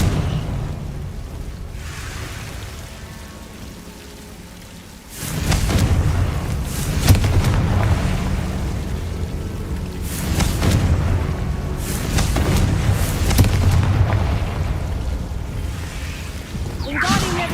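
Confringo fire spell explosions in Hogwarts Legacy video game, a series of loud booming blasts with rumbling tails, close and heavy, alongside spoken voices and game sound effects.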